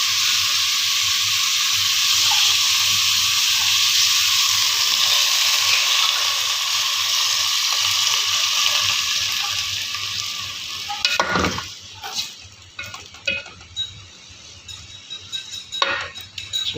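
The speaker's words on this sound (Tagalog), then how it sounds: "Lagyan natin ng konting tubig tapos tatakpan." Water poured into a hot pan of sautéed squash and string beans sets off a loud, steady sizzling hiss that fades after about eleven seconds into scattered clinks and stirring clatter.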